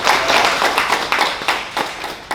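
An audience at a BrandLaureate MasterClass graduation ceremony claps for the graduates, a dense and steady run of loud hand claps that rise and fall slightly throughout.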